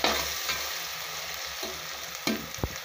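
Steady sizzle of mushroom biryani ingredients frying in a pan, with occasional scrapes and clicks of a utensil stirring, fairly close.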